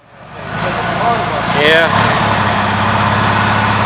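A Gravely tractor engine starts up and runs at close range, blowing exhaust, with a steady chugging idle that swells briefly and then holds a loud, even drone while someone speaks a word.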